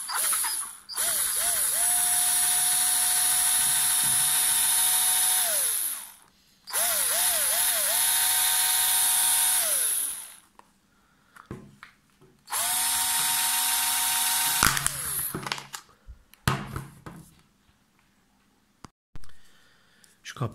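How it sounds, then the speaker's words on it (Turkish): A power drill bores into a plastic flower pot lid, whining loudly in long sustained bursts with audible speed changes and winding down between runs, followed by scattered clicks and handling noises. "Şu kapağımızı matkapla delemedik."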